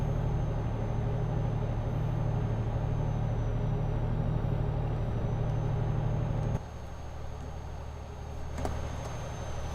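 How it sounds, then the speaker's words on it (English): A heavy Renault Magnum truck engine in Euro Truck Simulator 2 drones steadily at close range, a low rumbling hum that suddenly drops in level partway through, followed by a brief hiss near the end. "The truck I'm driving is a Renault Magnum."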